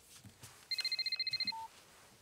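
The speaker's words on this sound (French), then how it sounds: "Nous sommes tous en train de goûter quand le téléphone du papa de Tony sonne." A telephone rings indoors, a quick electronic trill of about a dozen rapid pulses followed by a short single tone, fairly clear over quiet background.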